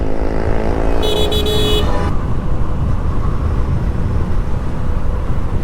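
A motorcycle rides along an elevated expressway. A loud, continuous roar of engine and wind fills the clip, and a short burst of horn toots comes early on.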